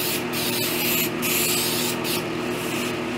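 A continuous close hiss of glue being sprayed onto a kitchen chair, with several short bursts louder than the rest, alone with no talking.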